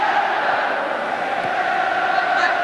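A 45,000-strong football crowd cheering England against Argentina at Wembley on a sunny day, a loud, steady roar of massed voices and chanting filling the stadium.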